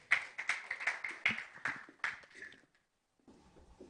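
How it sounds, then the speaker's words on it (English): Audience at a fintech media launch event clapping for a team member, a burst of sharp overlapping claps for about two and a half seconds that stops abruptly, followed by quiet room tone. "Let's clap for him."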